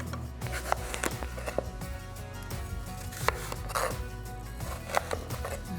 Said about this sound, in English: just give this a nice chop